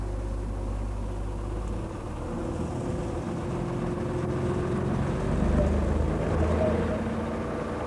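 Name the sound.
small 48 hp auxiliary motor of a cable ferry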